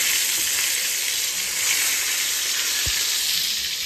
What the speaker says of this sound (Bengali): তা গরম গরম বেগুন ভাজবো